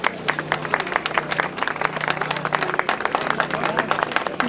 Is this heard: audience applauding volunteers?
yes